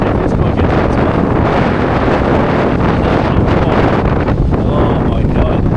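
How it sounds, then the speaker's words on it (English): Strong offshore wind buffets the microphone at a point break by the sea, a loud constant roaring rush with surf murmuring underneath. "The wind isn't quite from the right direction, although it's almost straight offshore."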